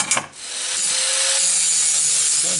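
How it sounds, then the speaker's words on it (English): A grinder cuts a V into a metal edge for welding on a funny car build. After a brief clatter, it settles into a loud, close, continuous abrasive whine. "Now I'm gonna grind it down the edge on each side so I can have a nice V in the middle"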